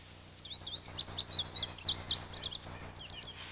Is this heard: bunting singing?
yes